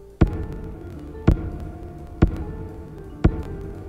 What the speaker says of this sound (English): Like if I tap the ground, it's gonna have an echo.